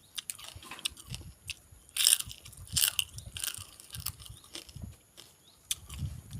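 Crispy stir-fried crab is bitten and chewed up close, the shell giving sharp crunches amid softer wet chewing, with a few louder snaps standing out.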